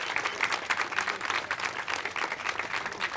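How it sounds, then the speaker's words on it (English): A standing crowd at an Isaih Pacheco Day celebration gives a round of applause, dense, continuous clapping with rhythmic swells, fairly close and lively. "give Pop a round of applause right now"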